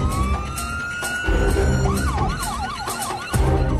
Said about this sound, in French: Une ambulance emmène l'homme d'urgence à l'hôpital le plus proche.